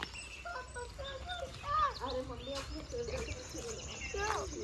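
Birds at a zoo in Himachal chirp and tweet in repeated short, bright calls at close to moderate distance over a low background hum, with faint human voices nearby.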